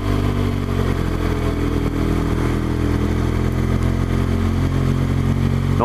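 BMW R1200GS motorcycle riding up Kirkstone Pass, its engine droning loud and steady with constant wind rush throughout.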